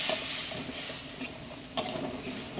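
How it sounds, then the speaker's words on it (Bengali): Spices with turmeric and coriander fry in a pan with a splash of water, giving a soft continuous sizzle and hiss broken by light stirring scrapes and one sharper knock. "জল দিয়ে মশলাটা একটু ভাজা ভাজা করুন"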